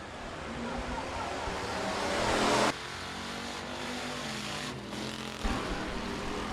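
Hobby stock race cars roar around the Rapid Speedway dirt oval during a King of the Hill race, a loud, steady engine drone that swells, cuts sharply and resumes as cars pass.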